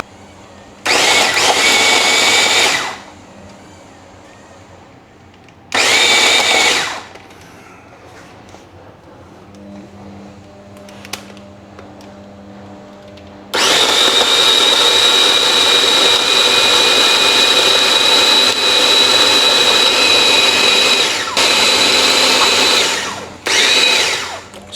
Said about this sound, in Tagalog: And, tsaka natin siya i-blend.